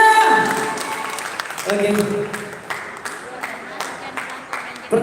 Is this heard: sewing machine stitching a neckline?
no